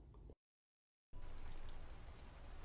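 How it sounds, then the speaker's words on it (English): Steady hiss of rain in the video game The Stillness of the Wind falls continuously, briefly dropping to total silence before resuming at the same even level. "It's raining."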